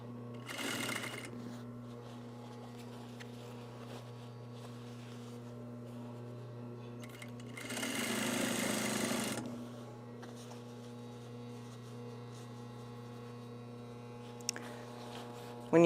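An industrial sewing machine stitching a shoulder bag runs in two loud, rapid bursts, one short and one about two seconds long, with a low steady mains hum and quiet handling noises between them.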